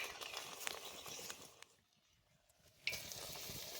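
Spinach pakoras frying in hot oil, a continuous soft sizzle and patter, faint and close, dipping briefly to near quiet before the crackle resumes.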